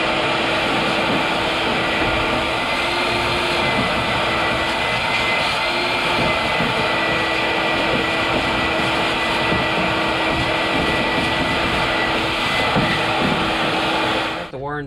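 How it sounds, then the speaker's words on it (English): A shop vacuum drones steadily and loudly while sucking up fiberglass debris from a custom door panel build on a 4th Gen Camaro, a continuous whine running almost unbroken before cutting off abruptly at the end. "I'm going to go ahead and get all this stuff cleaned up, vacuumed up."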